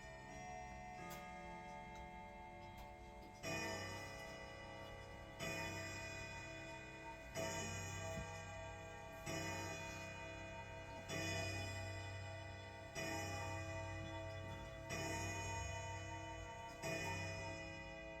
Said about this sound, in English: How many of you can guess what time it is by the chimes on that clock?